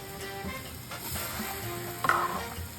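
Onions sautéing in a pan as the base for a Santa Fe mole, a gentle steady sizzle with a brief stir partway through, close and moderately quiet, no one talking.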